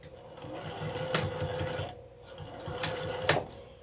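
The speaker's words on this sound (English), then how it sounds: "I'm going to start with a back stitch." A sewing machine hums close by while back-stitching a one-piece outdoor pillow cover, stitching in two runs with a brief pause between them and a few clicks as the stitching stops.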